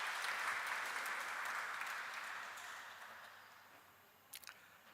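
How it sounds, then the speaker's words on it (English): An audience applauds a lecturer at a lecture series, with full, steady clapping that gradually fades toward the end, followed by a few brief clicks. "A round of applause for Bharadwaj sir"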